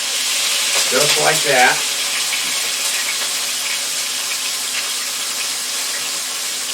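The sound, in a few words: London broil steak searing in a hot pan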